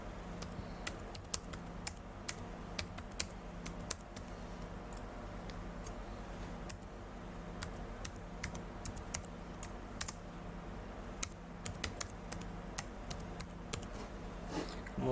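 Soft, rapid keystrokes patter on a computer keyboard while an email address is entered into a Gmail login, faint and close over low room hiss, with irregular bursts and short pauses.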